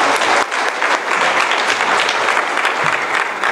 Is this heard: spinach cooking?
no